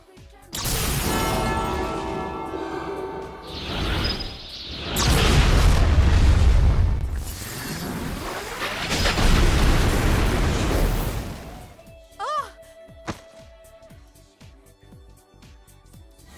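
Megiddo, a huge explosive attack in the Persona 3 Reload video game, erupting in several heavy booming blasts with roaring rumble that swell and fade, then ending in sparse game tones and small pops.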